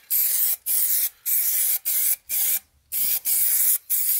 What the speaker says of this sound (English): Just kind of like you're normally spray painting everything